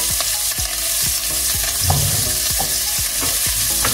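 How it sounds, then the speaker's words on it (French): Onions and garlic sizzle loudly in hot fat while a utensil scrapes and stirs them in the pan, the frying hiss constant and the stirring strokes repeating in a steady rhythm. "dans la graisse, eh bien, vous mettez les oignons avec l'ail"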